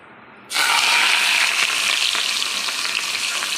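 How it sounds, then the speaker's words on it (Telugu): Spices hit hot oil for a tempering for tomato dal, setting off a sudden loud sizzle that starts abruptly and keeps crackling steadily, close up and without talk. "ఈ పోపుది సౌండ్ ఎంత బాగుంటుంది కదండి"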